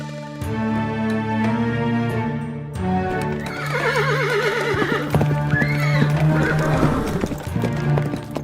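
A horse neighs and whinnies several times while hooves clip-clop steadily nearby, set against background music in a cartoon-style scene.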